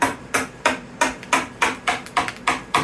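Hammer striking to knock silicone molds apart, about nine sharp, loud knocks in a steady rhythm roughly every third of a second, close and without talk.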